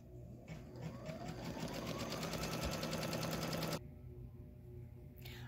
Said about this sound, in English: first thing it's going to stitch out is just going to be the placement line for